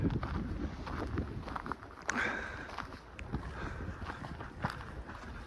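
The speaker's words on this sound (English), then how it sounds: "So it's pretty windy." Steady gusty wind at White Pine Lake buffets the microphone, a broad rushing roar with occasional thumps and rustles throughout.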